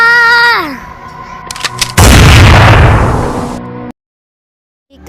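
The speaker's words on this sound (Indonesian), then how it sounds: "PKI yang sadar langsung menembak Ade Irma." Loud gunshot sound effect in a school play about the G30S PKI rebellion: one sharp bang with a crashing, noisy tail lasting about two seconds and then sudden silence, after a brief melodic tone.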